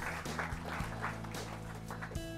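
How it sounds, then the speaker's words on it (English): An audience claps at a 2011 school trust annual day, a quiet, steady patter of applause with a faint tonal hum beneath it. "Let's give a big round of applause to Rahul Gupta"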